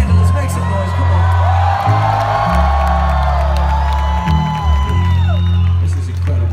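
A large concert crowd in Los Angeles cheers and whoops loudly and continuously, a dense roar of voices with a low rumbling bass underneath.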